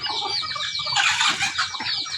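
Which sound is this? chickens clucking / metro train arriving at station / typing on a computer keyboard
chickens clucking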